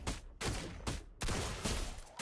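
Several loud, sharp bursts of rapid gunfire in quick succession from Granger's basic attack in the Mobile Legends video game, each ending abruptly, with no talking.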